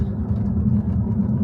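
A Wraptor-tuned Jaguar F-Type with exhaust mods and electric exhaust valves runs smoothly with a steady, close engine rumble; no distinct pops or crackles stand out.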